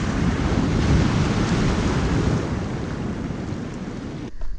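Ocean surf rumbles and washes at a surf break on an overcast day at low tide, a loud continuous roar mixed with wind buffeting the microphone, with no talking.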